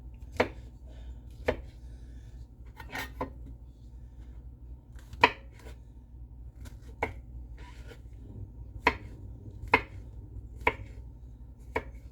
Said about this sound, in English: So, I'm just going to put those in there, give them a rough chop.